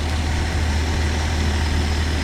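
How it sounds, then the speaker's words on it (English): A 1971 Ford Maverick engine idling too fast, a steady low, even hum with a constant drone and no changes in pitch, close by and without voices. "Yeah, we're idling much too fast."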